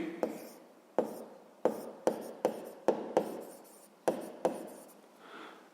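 Pen on paper in a sixth-grade maths exercise: a series of short, sharp strokes and taps in an irregular rhythm, close and quiet, ending in a softer rub.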